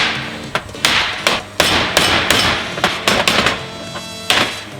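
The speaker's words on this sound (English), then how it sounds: "Bit of heavy duty lump hammer." A heavy-duty lump hammer strikes 3mm metal being formed on a GT-R powered Navara truck build, loud sharp blows landing in an uneven rapid series with ringing metallic decay.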